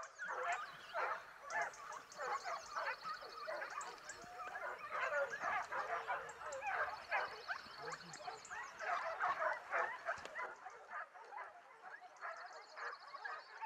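Hunting dogs bark in the woods during a Spanish montería hunt on a country estate, a busy overlapping chorus of yelps and barks, distant and fairly faint, running continuously with a few higher calls above.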